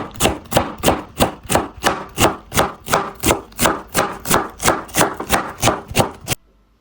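A knife chops cabbage finely on a board for a Nepali mixed cucumber pickle, about fifteen crisp, evenly spaced close-up strikes in a brisk rhythm before stopping abruptly.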